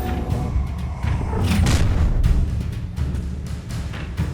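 An Incendio fire spell going off in Hogwarts Legacy: a loud booming whoosh that swells in the middle, set among scattered combat thuds and impacts, with no voices.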